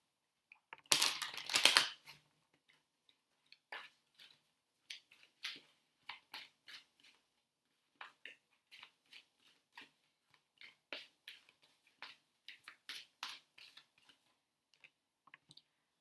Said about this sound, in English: Let's shuffle these cards and get a message.